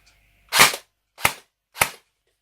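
A Cyma M4A1 airsoft replica rifle fires three sharp, snappy shots, a slightly longer first one followed by two quick evenly spaced cracks, close and clear against silence.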